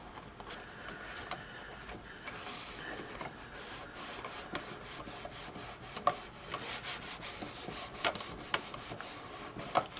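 Rubbing and pressing on glued paper tabs of a small angled gift box, a dry papery scraping that continues steadily with occasional sharper crinkles and taps, close and fairly quiet.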